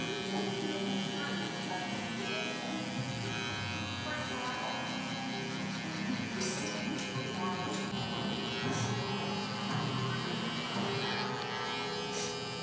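A Suprent Phantom hair clipper buzzes steadily while balding out a low fade, a continuous faint electric hum with light scraping texture, running throughout without pause.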